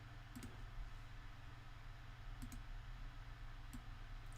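Mouse right-clicks while working in Fusion 360 CAM software, three brief soft click pairs spaced a second or more apart, faint and close over a steady low hum.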